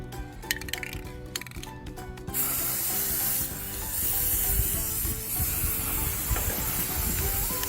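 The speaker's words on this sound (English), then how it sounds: "I'll be spraying the air freshener diffuser in gold" Gold aerosol spray paint is applied to an air freshener diffuser. A steady, close hiss of spray starts about two seconds in and continues with slight surges to the end, after a quieter opening with faint tonal sounds.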